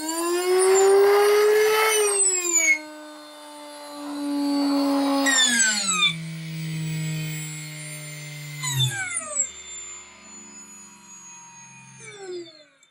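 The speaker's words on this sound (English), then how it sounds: "let me show you an example dyno run" A brushless drone motor driven by a KM55A AM32 ESC on an inertial dyno spins up in stepped bursts, its whine sweeping upward in pitch and then dropping over repeated runs, loud, close and steady, with no talking.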